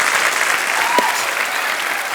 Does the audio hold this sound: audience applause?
yes